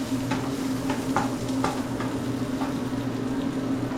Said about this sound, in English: I wish you guys could smell this sausage cooking.